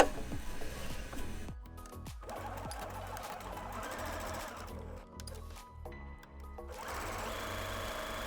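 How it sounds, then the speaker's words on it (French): A sewing machine runs a straight stitch along two sides of a fabric pouch for a slate, a steady mechanical whir close by that pauses and restarts several times. "on va faire une petite couture sur deux des côtés. Donc au point droit"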